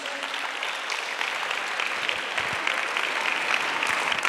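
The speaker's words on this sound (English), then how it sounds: "I would be clapping my hands now if I were you. Put your hands together for Jesus." A church congregation claps for Jesus, with continuous dense applause from many hands filling the room.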